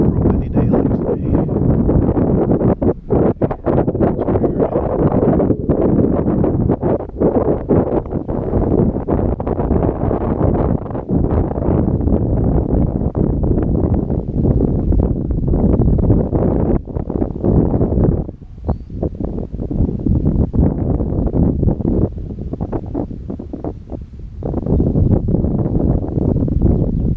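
Strong wind on a windy day roars and buffets against the microphone in a loud, continuous gusty rumble, with brief dips and surges throughout.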